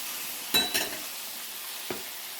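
Sausage and mushrooms sizzle steadily in a frying pan, with a couple of stirring scrapes and clinks near the start and another brief knock later, close and continuous.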